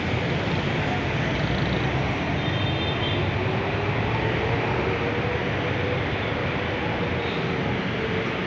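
An MRT train rumbles past overhead above EDSA at the South Road corner, a broad, steady roar of wheels and rails that fills the whole stretch without a break.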